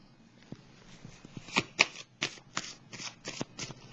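Tarot cards are shuffled and laid down in a run of crisp riffling snaps and slaps, several quick card hits in an irregular rhythm, close and fairly quiet.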